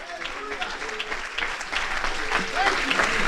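A church congregation claps their hands together, a steady mass of applause building slightly over a few seconds, with voices mixed in.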